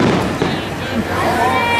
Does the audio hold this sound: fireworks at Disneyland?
yes